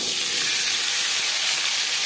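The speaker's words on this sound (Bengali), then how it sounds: "দিয়ে দিলাম রিফাইন্ড অয়েল," Refined oil sizzling and hissing steadily in a pan before jackfruit is added for frying, a bright continuous crackle filling the whole moment.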